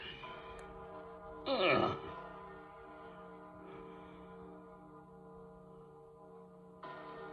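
An old toy bell bongs under a steady background hum, with one louder strike standing out and later softer tones, while a person talks nearby.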